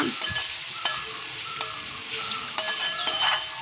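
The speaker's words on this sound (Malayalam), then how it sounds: "വീണ്ടും ഒന്നുകൂടി ഇളക്കി യോജിപ്പിക്കുക." A spatula stirs bitter gourd and onion thoran in a hot pan, soft sizzling beneath scattered metallic scrapes and taps against the pan, several distinct strokes spaced across the stretch.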